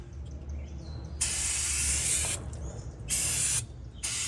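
An aerosol can hisses in three sharp bursts while cleaning the upper ball joint area of a 2008 Chevy Trailblazer, the first long and the others shorter, over a low background rumble.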